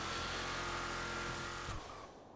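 Stadium trucks racing in Grand Theft Auto Online, engines roaring loudly and steadily in a fast multi-lap race before the sound briefly cuts and fades away.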